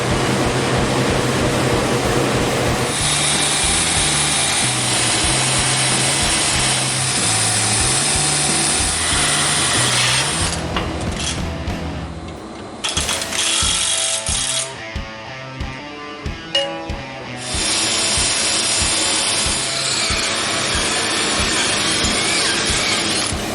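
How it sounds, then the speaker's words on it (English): Angle iron being drilled and bolted to a supercharger blower plate for a twin Eaton M-90 belt-drive build: loud, sustained power-tool whine runs continuously, breaks into short ratcheting and clanking bursts midway, then the steady drilling resumes. "Got the angle iron all drilled from the front side, bolted on the back"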